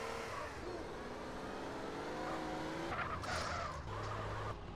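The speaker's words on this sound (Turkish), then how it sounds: "Şu motoru alayım ya, motorla gidelim ya." A motorcycle ridden in GTA San Andreas, its engine droning steadily and loudly, with brief tire skids and revving bursts near the end.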